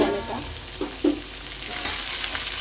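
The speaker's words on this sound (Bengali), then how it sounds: "ভেজে রাখা আলুটা আমি দিয়ে দিয়েছি এবার ভালো করে কষে নেব" Fried potatoes sizzle in oil in a pan while being cooked for a fish curry with tomatoes, giving a steady close hiss broken by a few scraping stirs.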